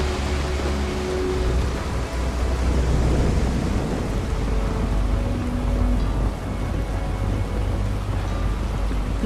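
A continuous storm rumble with rain-like hiss and low rolling thunder hangs over a lightning-powered city in the Starfield video game, sustained and fairly loud without distinct breaks or speech.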